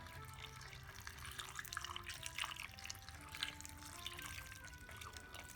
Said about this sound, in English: You don't need to add a lot of water. I'll add about a cup.